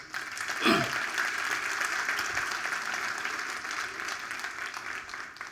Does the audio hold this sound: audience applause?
yes